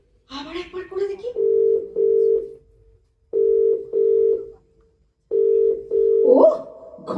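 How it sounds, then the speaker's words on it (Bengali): A telephone rings on an outgoing call, heard as three evenly spaced double bursts of a steady mid-pitched ringback tone separated by silence, with a person speaking briefly before the first ring and over the last. "এই তো, এই তো রিং হচ্ছে আবার।"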